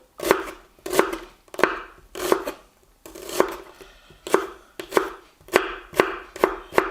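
A knife chops food into little cubes on a board for a Dutch oven lasagne. About a dozen crisp, close strikes land in an uneven rhythm with short pauses between them, and no voices are heard.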